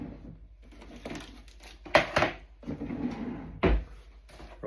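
Kitchen drawer opened to reach a plastic box of cling film, with close thuds and rattles, a sliding clunk and plastic crinkling in short bursts.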